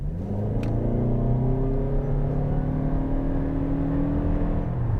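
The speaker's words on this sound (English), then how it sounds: "pin the throttle and it'll still sound like harmonizing lawn equipment" A 2025 Toyota Camry hybrid accelerates at full throttle, its engine holding a steady droning hum with layered tones that climb slowly and stay loud and close for five seconds.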